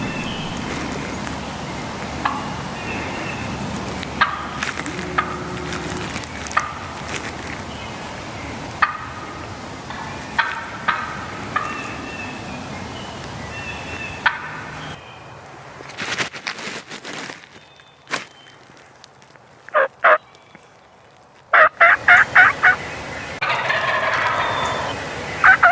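Wild turkey jake gobbling during a hunt, with several sharp, loud gobbles in rapid bursts near the end and earlier fainter calls over rustling outdoor background.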